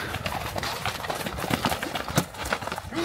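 A horse's hooves clip-clop in a busy, noisy scramble during a rough tussle over a goat at Jeti-Oguz, with overlapping thuds, stamping and rushing movement close by.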